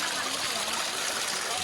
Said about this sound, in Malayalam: നോക്കിയേ, അടിപൊളി വെള്ളച്ചാട്ടം.